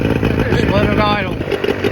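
A jon boat outboard motor idling with a steady low throb close by, while people talk over it.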